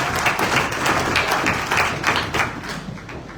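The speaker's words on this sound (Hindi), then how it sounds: "जोरदार तालियां डॉक्टर रंजन सर के लिए" An audience applauds Dr Ranjan, a cardiologist, with steady, dense clapping that fills the room and stays loud throughout, with no speech over it.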